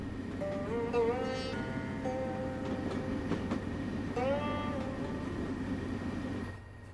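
Simulated train ride in the Train Sim World 2 video game: a steady rumbling rail drone with rising and falling tonal whines as the train moves along, continuous for several seconds and then easing off at the end, with no talking.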